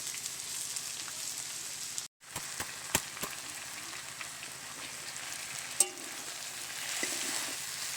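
Chowmein noodles frying in a hot pan give a steady soft sizzle throughout, with a few sharp clinks and taps of utensils against the pan and one brief drop-out partway through.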